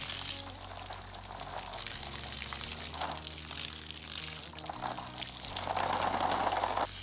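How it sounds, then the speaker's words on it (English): Water pours steadily over a lightsaber hilt as it is rinsed, a continuous splashing stream that swells louder toward the end, with a low background hum throughout. "we're going to go ahead and rinse this and see how well of a job it did."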